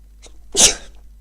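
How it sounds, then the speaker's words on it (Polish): One loud, close sneeze with a sharp breathy burst, then quiet. "Przepraszam Was za to, że kichnąłem"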